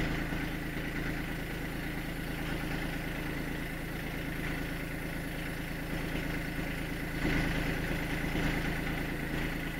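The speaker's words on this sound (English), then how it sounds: "This is a bad boy diesel, 3-cylinder." Three-cylinder diesel tractor engine idling steadily and close while a quick hitch is raised, a low even drone with a slight rise in loudness near the end.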